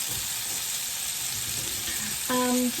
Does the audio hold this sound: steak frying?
yes